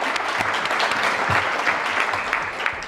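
Sustained applause from a conference audience at a housing summit plenary panel, a dense steady wash of clapping that fills the moment without pause.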